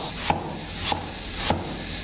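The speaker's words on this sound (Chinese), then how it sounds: "切丝之后再给它切成丁" A kitchen knife dices garlic on a cutting board for a Sichuan pickled-cabbage fish dish: three crisp, evenly spaced chops ring out close and distinct over a faint room hum.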